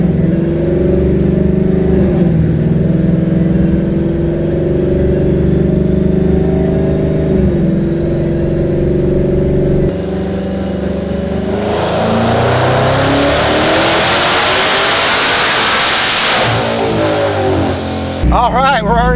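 A Hellion twin-turbo S650 Mustang on a dyno, running on 93 octane, revs hard and loud, its roar climbing steadily then cutting off abruptly near the end, with voices heard over the engine.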